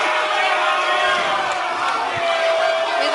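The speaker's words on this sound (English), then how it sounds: "Crowd's booing." Large live crowd booing at a man blowing a whistle on stage, a loud sustained roar of many voices, close and continuous, with chanting mixed in.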